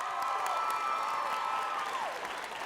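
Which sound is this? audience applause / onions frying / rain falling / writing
audience applause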